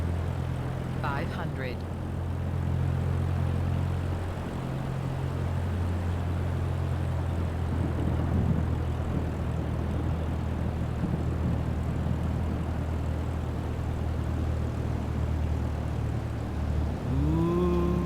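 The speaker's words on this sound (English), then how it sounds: "I'm going final approach. Full flaps. Increasing throttle." A propeller airplane's engine droning steadily on final approach with full flaps in Microsoft Flight Simulator 2024, a continuous hum that swells slightly as throttle rises, with someone talking over it.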